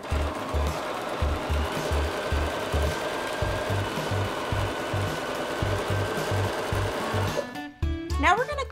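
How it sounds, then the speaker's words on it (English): A sewing machine stitches quilt fabric with black thread, running in a steady rapid chugging rhythm up close, then stopping, followed by a short rattle of handling noise. "we're going to sew on these 2 outer lines"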